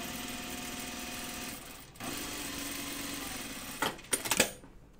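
Sewing machine running steadily as it hems the pocket of an unlined jacket, a continuous mechanical stitching hum for about four seconds, then a few sharp clicks and bumps as it stops.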